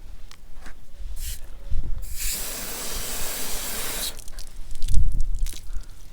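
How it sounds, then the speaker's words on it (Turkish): Short hissing bursts of water from a spray bottle land on solid car wax, one long spray in the middle and a couple of brief spritzes around it, close and fairly loud, with no one talking. "Bir su sıkalım zaten kendini belli ediyor."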